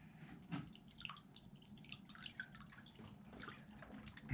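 Coolant poured into the radiator of a Kubota BX tractor, soft irregular trickling and dripping with faint gurgles, quiet and close, no talking.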